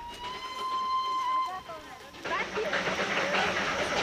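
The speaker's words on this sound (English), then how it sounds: "18 little locomotives run back and forth on the Darjeeling Himalayan line." One of the small steam locomotives of the Darjeeling Himalayan Railway sounds a long, high whistle that bends in pitch, followed by a loud rush of escaping steam, with speech over it.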